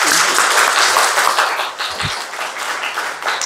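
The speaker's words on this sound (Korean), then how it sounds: "다시 한번 박수 쳐볼까요?" A church congregation at a Sunday worship service claps together, a dense, steady wash of hands that holds strong and then thins slightly toward the end.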